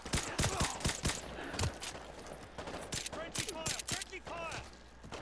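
Bursts of gunfire from a firefight in Modern Warfare 2 Remastered, sharp repeated shots and volleys crackling through the whole stretch, with voices calling out over the shooting.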